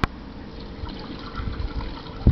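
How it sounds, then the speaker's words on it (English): Water from a tank feeds the centre of a garden see-saw water feature, trickling and splashing steadily at close range, with a louder splash near the end. "The water is fed from one of the tanks into the centre of the seesaw"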